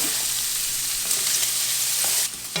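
Onion sizzles in a hot pan after breakfast ham, a loud, bright, continuous frying hiss close up, with a brief stir and a sudden drop in intensity just before the end.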